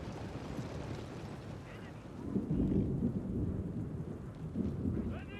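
Steady rain with rolling thunder in the Total War: Shogun 2 game, a dense wash of rainfall under low rumbles that swell in the middle and again near the end, fairly quiet throughout.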